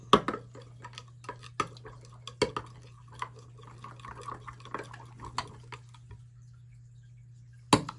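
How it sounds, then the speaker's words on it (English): A spoon stirs a coloured bait mixture in a bowl, making wet clinks and scraping taps in an irregular rhythm over a low steady hum, close and fairly quiet. "Stir that up."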